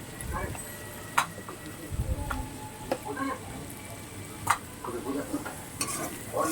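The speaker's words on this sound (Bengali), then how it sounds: "এবার এটাকে ভালো করে নাড়াচাড়া দিতে হবে, পুরোপুরি ভাজা ভাজা হয়ে যাবে" Cumin powder, turmeric and other spices being stirred as they fry in a pan for a jackfruit and prawn curry, with steady sizzling and sharp scraping strokes of the utensil at irregular intervals; faint speech is present.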